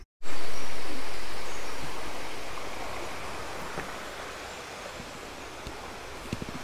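A stream flows along a countryside walking path on the Offa's Dyke route near Hay-on-Wye, a steady close broadband rush that begins abruptly and gradually softens, with faint occasional ticks and bird sounds.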